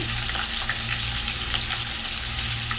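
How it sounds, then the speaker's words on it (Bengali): Chopped onions and chillies frying in oil in a pan, a loud, dense, continuous sizzle heard up close with no voices. "এখন এটাকে আমি ভেজে ব্রাউন কালার করে নেবো"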